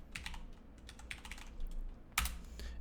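Typing on a computer keyboard while entering a search term into an Excel spreadsheet: quiet, close key clicks in an irregular patter, ending with one sharper keystroke.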